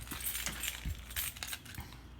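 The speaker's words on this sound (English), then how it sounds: "find my messy keys here" A bunch of keys jangles and clinks in a quiet room, with a few bright metallic rattles and small taps spread unevenly over a couple of seconds, close and moderately soft.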